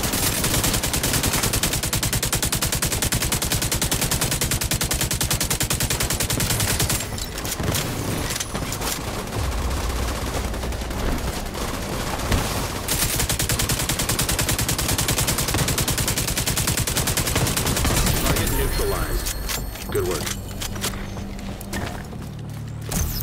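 Sustained gunfire in The Division 2, rapid automatic bursts rattling almost continuously and loud up close, with brief shifts in intensity and no voices over it.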